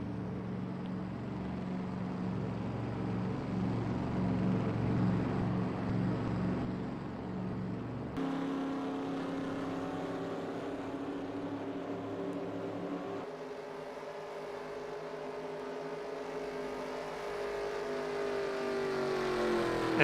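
Race cars in the eNASCAR Heat video game come down pit road during a round of pit stops, a steady engine drone that holds at a constant pitch, then shifts and slowly rises near the end, with no talk.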